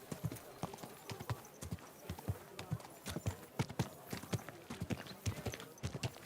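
Horse hooves clip-clopping at a steady walking pace in the video game Kingdom Come: Deliverance 2, a regular rhythm of hard knocks, moderately close, with no talking over it.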